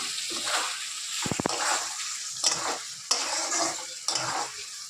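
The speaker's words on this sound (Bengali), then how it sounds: "মশলাটা ভাজা ভাজা হয়ে গেছে, এখন টমেটো দিয়ে দিচ্ছি পেস্ট করা।" Tomato paste tipped into hot fried spices in a pan, sizzling loudly in bursts with stirring scrapes and a few sharp clinks of the utensil against the pot.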